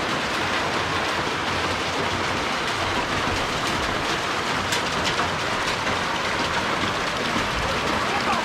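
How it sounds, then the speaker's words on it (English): Heavy rain pours down steadily at a Filipino family's home, a dense, loud, unbroken hiss that keeps the same level throughout with no pauses. "It's raining."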